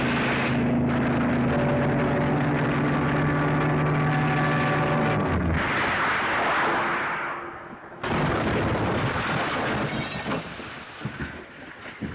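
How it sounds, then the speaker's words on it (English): Machine gun fire in a 1943 war drama set in China, from an attacking aircraft: a sustained loud rattling burst over engine drone, a sudden break, then more heavy firing and rumbling that fades toward the end. "Machine gun."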